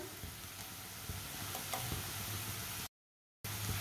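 Crushed garlic fries with lightly browned onions, a steady, soft sizzle with occasional stirring clicks. It cuts out briefly near the end, then resumes.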